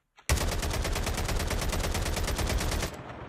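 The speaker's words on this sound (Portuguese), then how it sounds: "Vou ficar parado aqui, vou dar um tiro pro alto" Automatic gunfire shot into the air in the Call of Duty Mobile battle royale game, a loud, rapid, evenly spaced burst of about twenty-five shots lasting under three seconds before cutting off.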